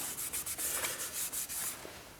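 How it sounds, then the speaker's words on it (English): A paper printout is rubbed by hand onto a board coated with spray adhesive for a light switch cover plate, making about eight quick, close, papery swishing strokes in a steady rhythm. "We're just going to lay Mr. D2 down and just rub the printout down onto the board."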